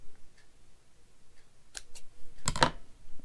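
Scissors cut through craft ribbon in a quiet room: a couple of faint snips, then one sharper, louder double snip close by.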